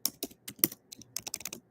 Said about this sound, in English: Look, I'm typing in the chat.